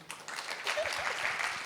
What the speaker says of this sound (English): Also deserving of applause.